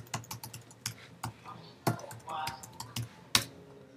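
Keys clatter on a Mac computer keyboard as a command is typed, a quick irregular run of close clicks with a few sharper, louder strikes and brief pauses between bursts.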